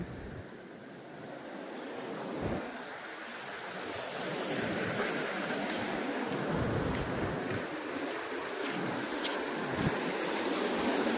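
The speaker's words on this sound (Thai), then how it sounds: "ชายทะเล ให้ดูคลื่นให้ดูคลื่นโหความสวยงาม" Sea waves roll onto Hua Hin beach in Thailand on a morning visit, a continuous broad surf wash that swells louder over the span, roughened by wind buffeting the microphone, with no talk.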